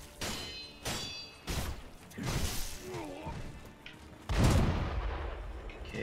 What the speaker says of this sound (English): Oh my word, this gun is massive.